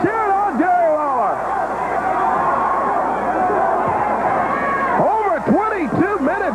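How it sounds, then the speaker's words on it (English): Wrestling fans in an arena keep up a steady roar of cheering and crowd hubbub throughout, with whistle-like rising and falling cries cutting in near the end and a voice talking over the crowd. "Fans cheering on Jerry Lawler."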